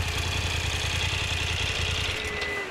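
A maxi trail motorcycle idles at a trail riding festival with a steady, rumbling engine drone, close and fairly loud, holding even throughout with no voices.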